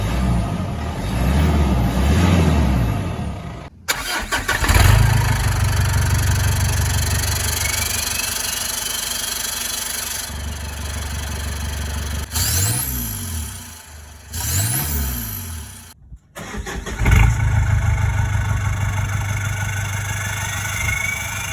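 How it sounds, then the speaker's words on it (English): Car exhaust compared in several takes, from stock to a 3-inch system: engine idling and revving with deep droning rumble, repeated rising revs and cut-offs between sections, loud and close throughout. "I'll chuck in the sound comparisons from stock to gap to 3-inch exhaust"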